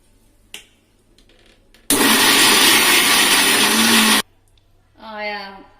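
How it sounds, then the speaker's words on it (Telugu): A kitchen mixer grinder loudly whirs through coconut chutney with salt in one steady burst of about two seconds, preceded by faint clicks and followed by a short voice. "మిక్సీ పట్టుకోవాలి."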